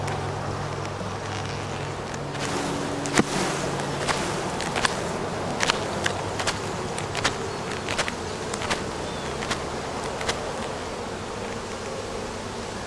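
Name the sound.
honeybees buzzing on a hive frame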